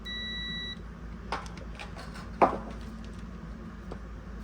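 A multimeter's continuity tester gives a short, steady high-pitched beep as its test probes touch, followed by a few faint clicks and taps from handling the probes on a Wolf microwave under repair.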